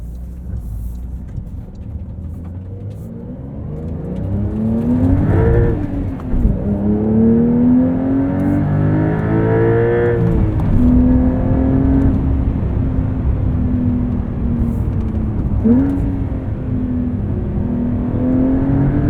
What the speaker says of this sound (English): The power with these new twin turbo 3-liter flat 6s is really impressive